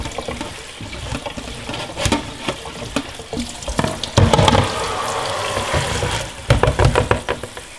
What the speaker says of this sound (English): Rinse it with cold water, get all that salt and all that stuff off of there.